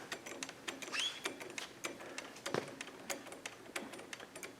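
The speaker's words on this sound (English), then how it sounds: "that little clunking is just because it's kind of touching on the pad" On a Suzuki GS street bike under restoration, a spinning wheel gives faint, evenly spaced light clunks and ticks as it rubs the brake pad, close by and quiet with no talk.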